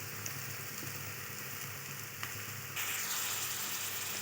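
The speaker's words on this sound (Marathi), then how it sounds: "हे छान मिक्स करून घ्यायचं, 2 मिनटं हे छान परतवून घ्यायचं" Ginger and garlic sautéing in a pan for street-style pav bhaji, a steady close sizzle with one brief knock, then the frying hiss grows brighter and louder near the end.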